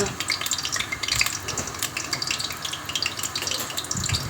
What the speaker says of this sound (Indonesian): Dia gorengnya lama, nunggu sampai kering ya guys ya.